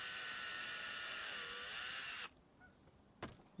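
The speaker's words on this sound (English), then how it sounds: "I'll take my large bit and I will just drill right down into" A power drill with a large bit whines steadily at high speed while boring into driftwood, its pitch dipping slightly under load, then cuts off abruptly followed by a couple of clunks.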